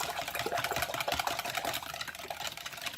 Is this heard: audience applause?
no